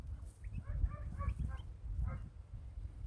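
A goose gives a few soft, nasal honks at moderate distance over a low rumbling background, the calls coming in short clusters.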